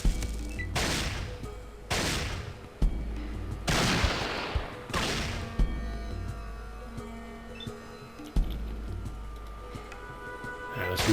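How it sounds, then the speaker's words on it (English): Gunfire from shooting a raider in the Fallout video game comes as several loud bursts about two seconds apart, each a sharp crack trailing into a hissing, rumbling decay, close and alone over a low hum. "Let's try shooting this raider again."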